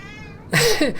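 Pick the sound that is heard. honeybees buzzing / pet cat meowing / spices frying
pet cat meowing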